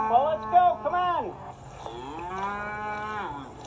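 Cattle on a farm moo loudly and close by, with two long, drawn-out calls that bend downward in pitch as the herd is called in from the pasture.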